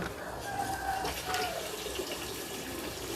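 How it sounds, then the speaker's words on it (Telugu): An air cooler's water pump motor pushes water forcefully through its pipe, a continuous splashing rush with a faint motor whine, steady and close, with a voice speaking briefly over it. "ఫ్రెండ్స్ చూడండి, వాటర్ వస్తుంది ఫుల్గా ఫోర్స్గా."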